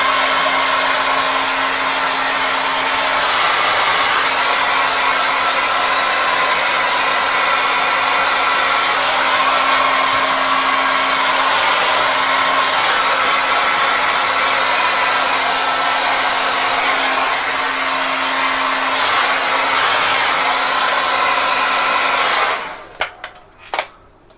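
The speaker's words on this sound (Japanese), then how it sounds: "お風呂上がってドライヤーをしようと思います。" A hair dryer used after a bath blows continuously at a steady, loud roar for a long stretch, then cuts off near the end with a few clicks.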